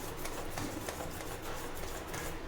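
Steady wet scraping and swishing of a spoon stirring thick sweet boondi batter in a bowl, continuous and close, with no voices.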